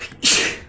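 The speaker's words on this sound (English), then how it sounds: "Why do I need to start sneezing when I'm recording?" One sharp human sneeze bursts out close by, a quick loud hiss after a short intake, alone with no talk.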